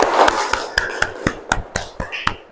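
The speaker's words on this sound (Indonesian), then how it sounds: "tepuk tangan dong buat kita semua untuk pembelajaran kita hari ini" A Grade 6 primary-school class claps together, a series of sharp, separate handclaps in an uneven rhythm, about a dozen strikes, close and fairly loud, with some children's chatter at the start.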